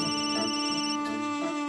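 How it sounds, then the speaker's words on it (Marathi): A mobile phone rings with a bright, repeating electronic ringtone melody, loud and close, sounding alone for under two seconds. "फोन वाजतोय"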